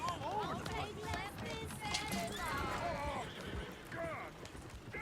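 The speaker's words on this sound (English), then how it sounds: "Oh, shit, the horses!" Horses in Red Dead Redemption 2 whinnying and neighing repeatedly over galloping hooves and clattering movement, loud and close, with shouting and game chatter mixed in.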